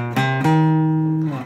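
Acoustic guitar lesson notes from a song, three picked notes on the low strings ringing close and clean, the last one sustaining before a slight downward slide as it fades.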